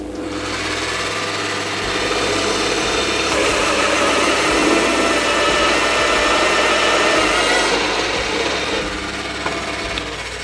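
A Scheppach DP55 drill press bores through material with a worn hole saw, giving a loud, steady grinding and whirring that holds for about ten seconds with no talk.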